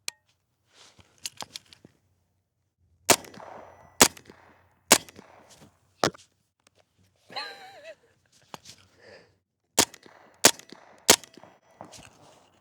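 Suppressed rifle fired with 147 grain ammunition: about seven sharp, dry cracks in irregular clusters outdoors, with faint clicks and handling noises between shots and a brief voice in the middle.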